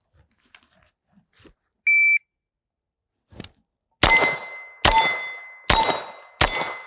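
A pro shot timer on delay gives one short, clean start beep in quiet surroundings, followed about two seconds later by four loud, sharp gunshots in quick succession.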